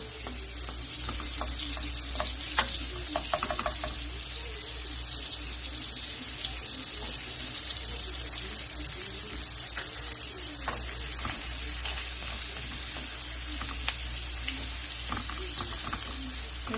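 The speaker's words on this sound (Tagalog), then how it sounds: "gigisa lang natin para saluto ang ating sibuyas at ang ating bawang" Onion and garlic sautéing in a pan, a continuous bright hiss of frying oil throughout with faint stirring clinks and a voice briefly heard in the background.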